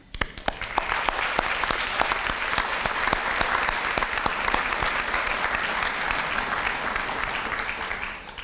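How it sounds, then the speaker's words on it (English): A standing audience claps steadily through a graduation ceremony for a community transition program, a dense, even wash of applause that swells quickly and holds to the end. "please stand and please give them a round of applause"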